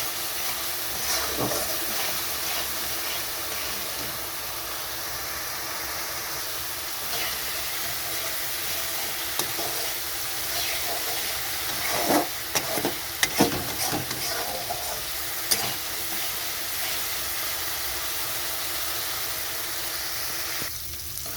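Salt, turmeric and Kashmiri chili powder being sautéed in oil in a pan for a Bengali bhola fish curry with tomato, a continuous close sizzle with stirring scrapes and a few louder clanks of the spatula midway.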